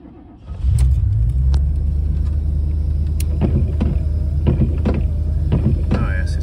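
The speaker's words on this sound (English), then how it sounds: "Start the car." A 1992 Chevy Caprice engine cranks and catches after about half a second, then settles into a loud, steady low idle rumble close by, with some faint clicks and knocks over it.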